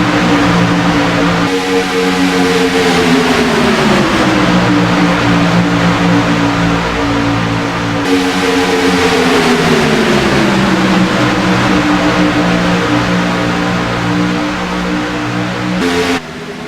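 Race cars in a sportsman series pack roar along the front straightaway and tri-oval at Daytona, a loud, unbroken engine drone whose pitch sweeps down and back up as the cars pass.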